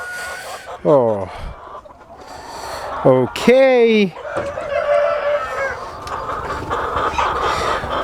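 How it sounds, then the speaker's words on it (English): Hens cluck and a rooster crows loudly inside a farm chicken house, with bursts of calls standing out over a continuous background of fowl chatter, and a person speaks briefly. "let's move in and check out the chicken house"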